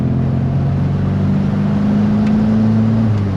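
Volkswagen Passat engine pulling under acceleration, a loud, steady close drone with a sustained low hum and constant rushing noise throughout, no voices.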